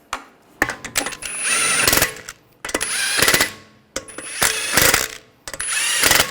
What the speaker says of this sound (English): Take the lug bolt, get that started. Snug that down.